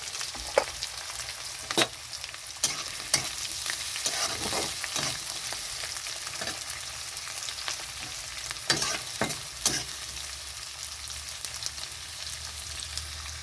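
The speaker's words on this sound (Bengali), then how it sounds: "এখানে দিয়ে দিচ্ছি পেঁয়াজ আর লঙ্কা।" Onion and green chili frying with already-browned garlic in a pan for a mixed five-lentil dal, giving a continuous hiss and crackle under repeated crisp stirring scrapes. Close and moderately loud, with no voices.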